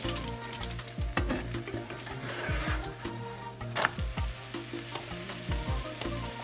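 Keto coconut flatbread cooks in a hot pan, giving a steady sizzle with scattered crackles and pops throughout, close and fairly loud, with no talking.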